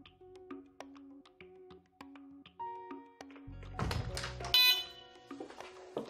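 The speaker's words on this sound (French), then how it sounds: "Les bips que vous entendez sont ceux de mise en garde sur une détection retardée" A Delta Dore Tyxal+ wireless home alarm gives a series of short electronic warning beeps in a quiet room, separated by irregular gaps, with a few thumps and a louder burst of noise near the middle.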